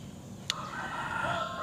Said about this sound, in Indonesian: pagi ini banyak sekali suara ayam